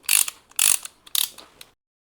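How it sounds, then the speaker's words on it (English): A brake spreader tool ratcheting on a Prius C brake, with three loud, close clicking bursts followed by a few softer clicks, then silence. "This is the brake spreader tool that I use,"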